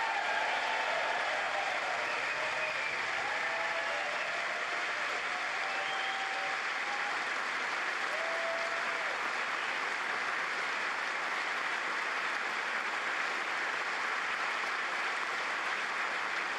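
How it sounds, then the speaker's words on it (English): Audience in the US Congress applauds Netanyahu's speech with steady, sustained clapping that stays even and dense throughout, with faint voices and a few raised calls buried in the applause. "They're clapping for him!"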